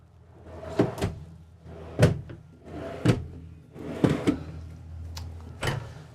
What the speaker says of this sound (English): Over here we have 4 more pull-out drawers,